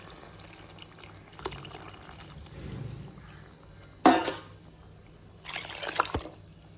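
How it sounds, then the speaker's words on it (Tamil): Tamarind extract poured into a fish curry pot, heard as a few short liquid splashes and trickles, with one sharper splash midway and a longer pour near the end, fairly quiet and with no talking. "இதுக்கு தேவையான அளவு புளி கரைசல் சேர்த்துக்கலாம்."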